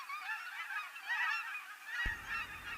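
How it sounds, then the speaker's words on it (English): Cackling geese (Branta hutchinsi) honk in a dense, overlapping chorus of high, yelping calls that run continuously through the whole stretch, loud and close, with a low rumble of ambient noise entering near the end. "AKA Branta hutchinsi, cackling geese are most closely related to Canada geese."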